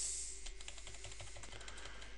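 Fingers type on a computer keyboard in a quiet room, a run of light, close key clicks at an uneven rhythm over a low steady hum.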